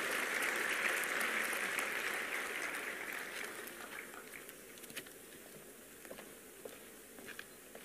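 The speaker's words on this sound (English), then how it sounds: "Please welcome her with a thunderous round of applause" Large audience applause at a youth event at Bharat Mandapam in Delhi, a loud sustained crowd of clapping that gradually fades over several seconds into scattered individual claps.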